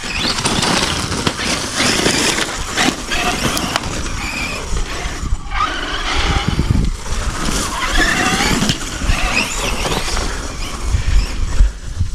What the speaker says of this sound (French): Regarde où tu roules, Mani.